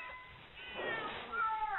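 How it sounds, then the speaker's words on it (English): Tomcats fighting outdoors, heard as a drawn-out wavering yowl that rises into a louder caterwaul, fairly close and clear, with no talking. "Oh my God, there's cats outside fighting. Do you hear that?"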